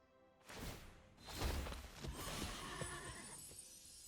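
A horse-token sound effect from the MTG Arena card game plays a horse whinny with hoof clatter. It starts as two sharp bursts, then fades into a softer trailing neigh.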